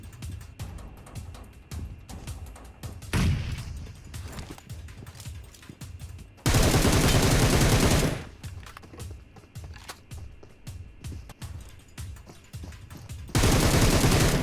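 Bursts of rapid automatic gunfire in PUBG Mobile alternate with quieter stretches of footsteps and scattered shots, loud and close in short volleys.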